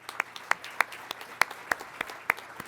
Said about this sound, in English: Please, a round of applause for all of our attendees here today.